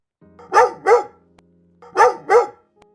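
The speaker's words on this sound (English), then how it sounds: "Dog." A dog barks two pairs of loud, close barks, each pair quickly doubled and separated by a short pause, with no other sounds around them.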